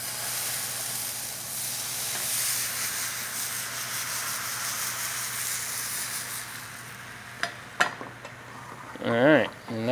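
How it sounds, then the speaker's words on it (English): Crepe batter goes onto a hot carbon steel crepe pan with a sustained close hiss and sizzle, followed by a few scraping taps and a brief voice near the end. "then we're going to get our batter onto that pan."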